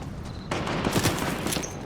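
Gunfire in an online shooter game, a dense, loud volley of rapid shots crackling together, continuous for the full stretch with no voices over it.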